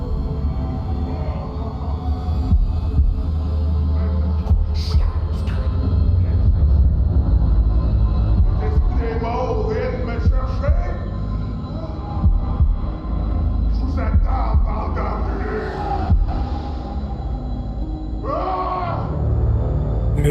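A throbbing heartbeat pulses low and steady through a tense scene in the horror video game Man of Medan, mixed with eerie game ambience and occasional strained cries, while a player talks intermittently.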